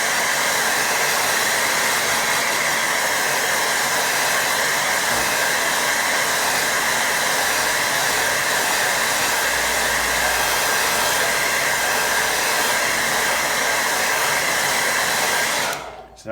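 A hair dryer blows a steady, loud, close whoosh drying a watercolour glaze on a painting of cows in a field, running unbroken before cutting off at the end.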